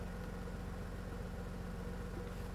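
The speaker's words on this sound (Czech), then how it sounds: "Takže máme nastartovaný motor" A car engine that has just been started idles steadily, with a low, even rumble and a constant vibrating hum throughout. No one speaks.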